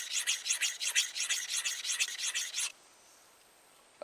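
A file drawn across the edge of a Simmons broadhead to raise a burr: about a dozen quick, even rasping strokes in a steady rhythm, close and crisp, then stopping into near silence.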